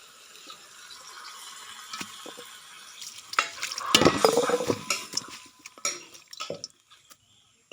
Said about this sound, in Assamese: অকণমান পানী দিম ইয়াতে। এয়া সিজিছে আৰু বিলাহীখিনিও ইয়াতে অকণমান পানী দি দিম।